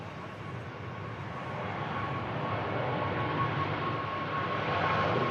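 A distant aircraft rumbles on an airport runway, a steady broadband engine roar that slowly grows a little louder, faint and continuous with no voices.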